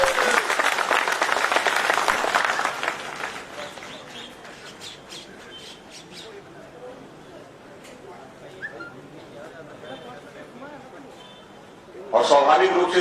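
An audience at a political speech bursts into loud applause that fades after a few seconds, giving way to quiet crowd murmur and birds chirping outdoors, before clapping swells sharply again at the end.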